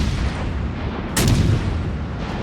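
Warship guns firing in World of Warships during a match involving a super heavy cruiser Alaska, a single loud booming shot punching through a constant rumbling battle ambience.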